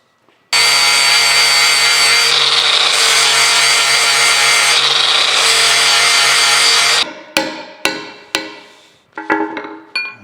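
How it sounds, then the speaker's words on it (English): An angle grinder fitted with a zip cutoff wheel grinds steadily through a rusted part of a Chattanooga No. 14 cane mill, a loud continuous whine lasting several seconds before cutting off, followed by a handful of sharp metallic clanks and knocks. "I think I'm just going to take a zip wheel on the grinder and grind that off."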